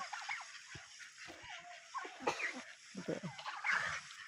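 Turkey gobbling on a farm, with several quick, rattling gobble bursts at moderate distance, separated by brief pauses against faint background noise.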